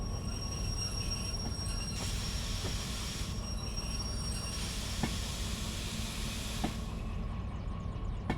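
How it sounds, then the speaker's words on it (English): A coal train rolls along the track in the Derail Valley game, with a steady rumble, high wheel squeal and hiss, and a few metallic clanks from the wagons, no talk. "This is the first coal train I've had in Derail Valley."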